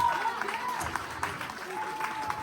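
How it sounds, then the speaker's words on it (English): A small audience at a talent search grand finale claps steadily, a dense patter of hands with faint voices mixed in. "Round of applause for it, guys."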